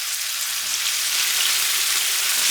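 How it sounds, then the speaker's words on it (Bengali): Marinated chicken and shrimp, shells on, fry in a little oil for a Thai soup, giving a steady, dense sizzle that holds evenly and close throughout with no talking. "ম্যারিনেটেড মুরগির মাংস এবং চিংড়ি মাছকে এখন অল্প তেলে ভেজে নেব।"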